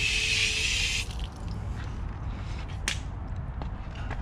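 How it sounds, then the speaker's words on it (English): A garden hose sprays water onto a Porsche GT3 RS with a loud, close hiss for about a second, then gives way to softer splashing and dripping off the car body. "All right, spraying some water on here."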